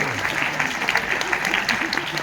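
Audience applause for an elderly woman at a poetry gathering, a dense steady patter of many hands held at an even level throughout, with a faint voice mixed in underneath.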